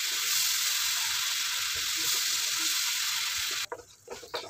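A yogurt and green chili masala cooks on a low flame, giving a steady bright sizzle for several seconds before it cuts to quieter scraping and clatter as it is stirred.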